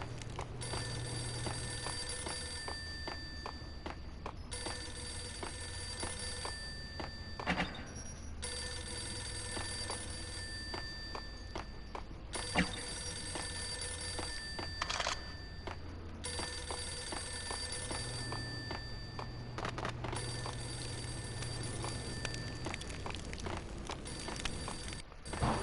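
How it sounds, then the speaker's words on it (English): A telephone rings repeatedly in the Max Payne video game, steady evenly spaced rings over a constant ambient hum with no talking. "I hear it phone ringing, but I don't know where it is."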